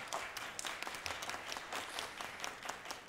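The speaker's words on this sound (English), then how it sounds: "clap your hands." Attendees at a 2015 city budget engagement forum clap their hands as a show-of-hands vote, a faint, steady wash of applause from a crowd throughout.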